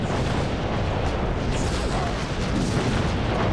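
Gunfire and booming blasts in the PC shooter Redline: Gang Warfare 2066, a dense, continuous rumble of shots and explosions at steady loudness throughout, with no clear pauses between bursts.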